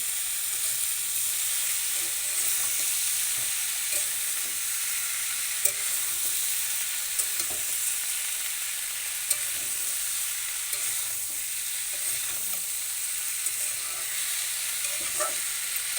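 Tomatoes fry in a pan with a steady, close sizzle and hiss that runs unbroken throughout, broken now and then by faint clicks and stirring sounds, with no one talking.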